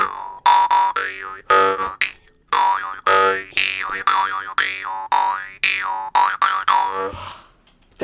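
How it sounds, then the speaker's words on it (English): A jaw harp twangs loudly and close in a series of springy, boinging notes, each pulse bending in pitch with a wah-like shift, played alone in an uneven, playful rhythm. "That's called the jaw harp."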